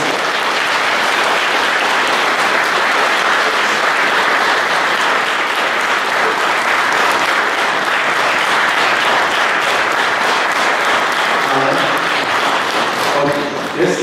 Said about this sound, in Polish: Brawa dla naszej orkiestry!